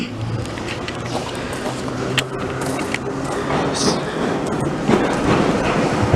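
At a transportation museum, a train rumbles past with a steady low roar, dotted with faint clanks and rattles that grow slightly louder toward the end.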